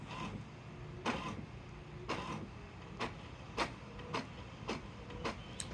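An HP OfficeJet 3836 printer feeding a sheet of paper gives a run of soft mechanical clicks and whirs, about one every half second, close and fairly quiet against a low hum.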